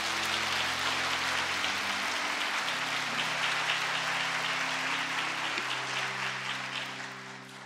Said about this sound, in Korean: 모든 성도분들은 박수로 축복해 주시기 바랍니다.